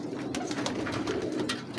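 Original teddy pigeons of the Mian Nazir Sahib line coo steadily and softly at close range, with a continuous low, throaty murmur and no talking.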